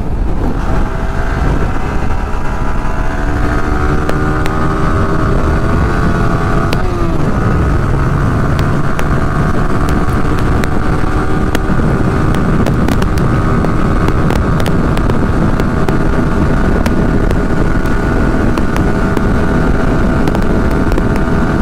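A 2024 Yamaha R15S motorcycle engine revs hard at high speed, a steady, buzzing tonal drone that briefly drops and climbs again as it shifts gear, with constant wind rush over the rider's microphone throughout.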